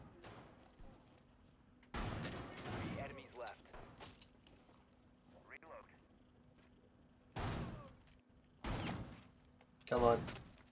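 Sharp bursts of gunfire ring out in Rainbow Six Siege, four or five loud separate volleys spaced apart with quieter game noise between them.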